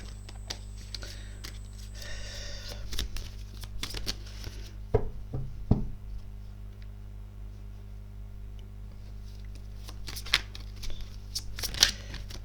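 Tarot cards being shuffled close by, a run of soft riffling and papery flicks with a few sharper taps against a steady low background hum, no talking.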